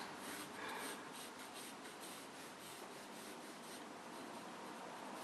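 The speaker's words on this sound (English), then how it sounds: "So for example, I'm going to draw this" Pencil drawing on paper during an art lesson, a continuous dry, scratchy rubbing of strokes that holds steady for the whole stretch with no voice over it.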